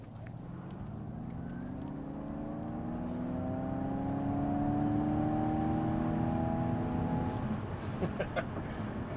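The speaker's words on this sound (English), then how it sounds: "when you floor it, just like many other electric cars, it pulls." A 2023 Ford Mustang Mach-E GT Performance, an all-wheel-drive electric car with two motors, accelerates hard from inside the cabin, its motor whine rising steadily in pitch over road and wind rumble that grows louder.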